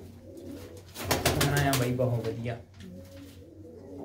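A pigeon with a small beak and one slightly damaged eye coos close by while someone talks over it, the cooing blending with his voice through most of the clip.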